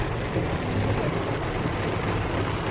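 Heavy rain pours down in a dense, steady roar during a shower on the first day of Lunar New Year, with no voices over it.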